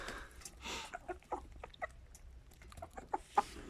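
Soft clucks and short calls from a young Indian and Shamo game-breed rooster come from nearby, scattered irregularly over a quiet outdoor background.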